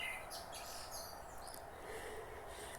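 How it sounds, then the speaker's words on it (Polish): Several birds sing and chirp at five in the morning, in scattered bright calls and trills over faint outdoor ambience, fairly distant and quiet, with no talking. "Piąta rano ptaki już śpiewają."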